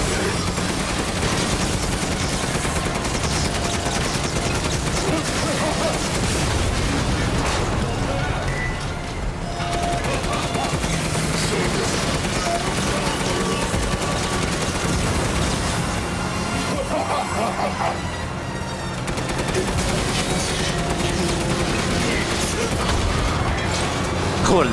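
Dense, continuous rapid gunfire and heavy cannon booms from Resident Evil Village in VR mode fill the clip, loud and sustained throughout, with voices mixed underneath.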